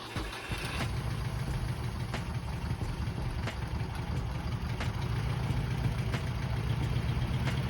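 A hot Zaporozhets car engine idles close by with a steady, rough, low drone that holds even for the whole stretch, with no voices.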